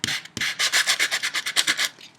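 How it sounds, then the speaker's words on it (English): A paper craft sanding tool scraped along paper in a quick series of about a dozen rhythmic rasping strokes, close and crisp. "scratch along the paper"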